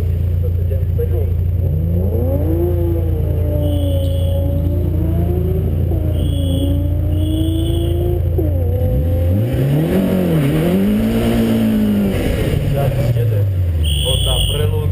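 A BMW M3 race car at a hill climb, its engine revving hard through rising and falling gear changes close by, with an announcer talking over it throughout.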